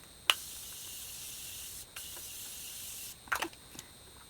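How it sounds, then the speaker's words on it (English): Morphe Continuous Setting Mist sprays onto a face in two long, soft hissing bursts, each opened by a faint pump click, followed by a few quiet clicks. "now I'm gonna set the rest of my face with the Morphe Continuous Setting Mist"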